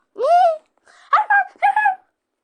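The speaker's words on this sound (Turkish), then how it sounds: "Ay ben bu köpeği çok sevdim." A dog whimpers and yips in three short, close, whiny bursts with pauses between them.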